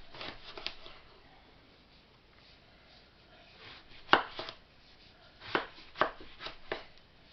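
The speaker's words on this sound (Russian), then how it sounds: "И режем их крупными дольками, чтобы они были похожи на грибы." Knife cutting eggplants into large chunks on a board: a few sharp, separate chops spaced over several seconds, loudest near the end, with quieter scraping between.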